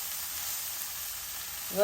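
Cabbage and beaten egg frying in a pan, a steady hiss of sizzling across the whole stretch, with a brief louder burst of sound at the end.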